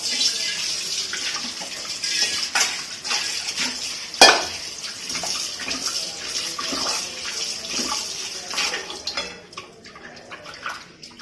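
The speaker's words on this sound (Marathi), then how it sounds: "आता परत हे एका दोन पाण्याने धुवून घ्यायचं" Water splashes and sloshes as pieces of surmai (kingfish) are rinsed by hand in a basin, with one sharper clatter partway through.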